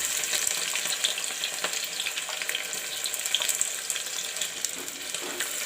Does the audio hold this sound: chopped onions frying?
yes